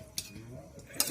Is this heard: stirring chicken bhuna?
yes